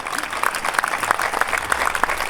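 An audience at a film premiere screening applauds, a dense, steady patter of many hands clapping close by for a couple of seconds, with no voices over it.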